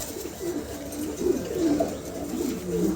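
Pair of male Andalusian pigeons cooing close by, repeated throaty rolling coos that swell and fade across the moment, with no talk over them.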